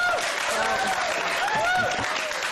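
A council meeting audience in Newport Beach claps in a dense, steady burst lasting the whole moment, with thin whistle-like tones and a few voices rising over the clapping.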